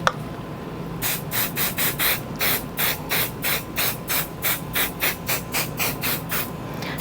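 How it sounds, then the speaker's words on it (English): An aerosol adhesive spray is applied to quilt batting in a series of about fifteen short, evenly paced hissing bursts, close and fairly loud, with no talking. "I'm going to spray, if I can get the cap off."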